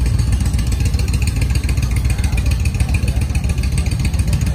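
A Honda CBX 1000 motorcycle at the Wheels & Waves 2019 event, its engine running loud and close with a dense, steady roar and rough clatter throughout.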